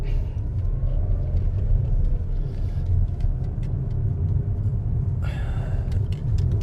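A car pulls away from a three-way set of traffic lights, its steady low engine rumble running throughout with road noise and a brief rise in sound near the end, no voices over it.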